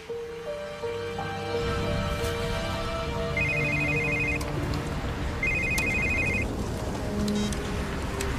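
A landline telephone ringing in two distinct bursts of electronic trilling against quiet room background, with no one speaking.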